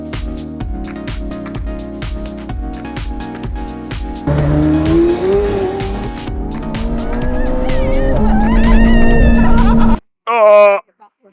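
A McLaren sports car speeds along an unrestricted German motorway, its loud engine note climbing steadily in pitch through the gears beneath a steady rhythmic beat, then cutting off abruptly near the end.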